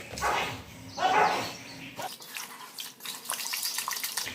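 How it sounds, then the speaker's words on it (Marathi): Water splashes and sloshes as dill greens are rinsed in a basin, with a couple of louder swishes early, then lighter trickling and rustling. "तर आता हे एकदा दोनदा धुवावं लागणार आहे"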